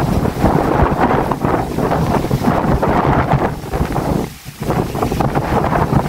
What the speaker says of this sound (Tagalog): Grabe ng hangin.